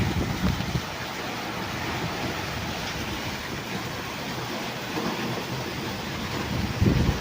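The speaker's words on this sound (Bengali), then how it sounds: "পুরো ঝড় বৃষ্টি হচ্ছে এখন ভোরবেলা।" Before dawn, a thunderstorm drives heavy rain and gusting wind in a continuous, loud roar that fills the scene, steady throughout with no voices.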